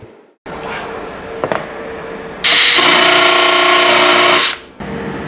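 A power drill drives 1.25 inch drywall screws while an EV charging outlet is mounted, with short whirring runs, a brief pause, then a longer loud high-pitched spin that stops and restarts.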